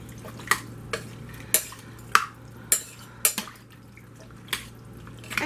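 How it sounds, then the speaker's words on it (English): A spoon stirs beef stew in a pot, with a series of sharp metallic clinks against the pot's side spaced about every half second over a low steady background hum, close and clear, with no voices. "A nice stir."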